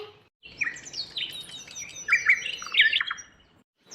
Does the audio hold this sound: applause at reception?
no